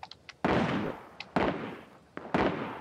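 Gunshots in the shooter video game R.O.E. (Ring of Elysium): three loud, booming shots with long decaying tails, each preceded by small clicks, spaced about a second apart.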